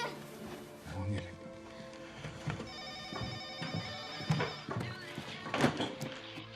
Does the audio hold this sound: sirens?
no